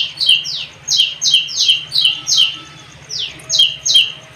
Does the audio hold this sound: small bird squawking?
yes